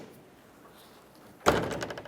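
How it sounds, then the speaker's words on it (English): After a quiet stretch, the tailgate of a 2004-2008 Ford F-150 clunks open in one sudden loud thunk followed by a short rattling clatter. "We can carefully open up our tailgate again."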